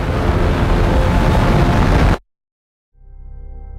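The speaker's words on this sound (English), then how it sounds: "We obviously used a lot of rocket recordings, some rocket motor tests that we recorded out of Mojave here" Rocket launch sound effect built from rocket motor test recordings made in the Mojave, a massive continuous roaring blast that cuts abruptly to silence before a lower rumble swells back in.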